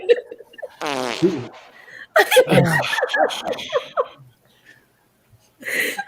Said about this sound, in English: Someone's belching and it's funny.